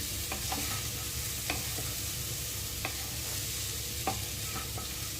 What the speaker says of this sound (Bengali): সব সবজির সাথে একসাথে মিশিয়ে নিচ্ছি।